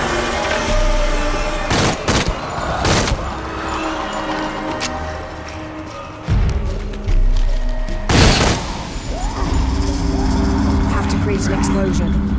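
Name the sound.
explosion in video game Shadow of the Tomb Raider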